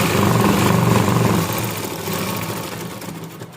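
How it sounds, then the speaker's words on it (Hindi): Sewing machine running steadily while stitching the belt of a dhoti shalwar, loud and close, a continuous mechanical whir that eases slightly halfway through. "देखिए अब हम बेल्ट की सिलाई कर रहे हैं।"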